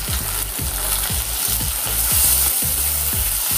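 Chopped tomato frying in a pan for a prawn dish, a loud, close sizzle carries rhythmic scraping strokes of a spatula roughly every half second, with no talking.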